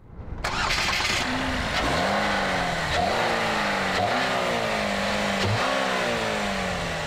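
A 2012 Chevy Orlando with GM's 2.4-litre Ecotec engine starts and pulls away, its mid-pitched engine revving up and dropping through several gear changes, steady and close throughout.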